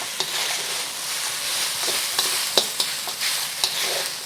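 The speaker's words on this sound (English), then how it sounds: "adding about a handful of peas. Wow! So about half a cup. Okay, we're heating the peas through." Peas are stir-fried in a hot pan for garlic shrimp fried rice, making a steady, close sizzle punctuated by light clicks and scrapes of a spatula.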